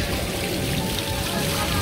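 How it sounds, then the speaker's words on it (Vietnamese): Rain falling steadily over an outdoor swimming pool in the countryside, a dense continuous patter and hiss of drops on water and surfaces, loud and close, with no clear talk over it. "Trời mưa mà còn không bị ướt."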